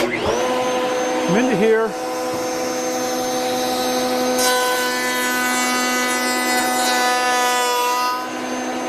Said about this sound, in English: we'll turn the router on, and we'll pull that board through like this